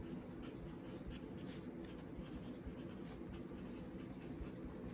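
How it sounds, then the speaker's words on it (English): Pen or pencil writing steadily on paper during a college statistics lesson, a continuous close scratching that fills the whole stretch with no talk over it. "let me write this down"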